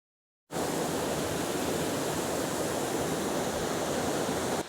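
A waterfall behind an icy scene roars as a dense, constant broadband rush that cuts in suddenly and holds steady and loud, with no voices.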